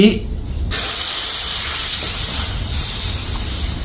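Coconut milk hits a hot pan with a loud, steady sizzling hiss that begins abruptly and continues without pause, close up, with a low rumble underneath.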